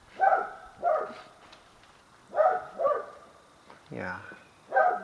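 A little pup on the Camino de Santiago between Arzúa and O Pino gives a string of six short, high yapping barks in uneven pairs, fairly faint and close by.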